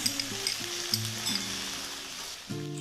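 Garlic paste, then ginger paste, frying in hot oil for a Bengali egg and chana dal curry, a steady close sizzle with a sustained tonal hum running beneath and a brief shift near the end.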